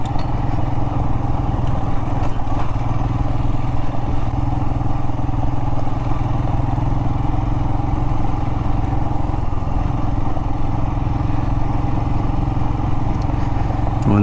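A Royal Enfield Himalayan motorcycle riding over loose desert gravel, its engine droning steadily and loudly throughout with constant rumble and road clatter, close and unbroken, no speech.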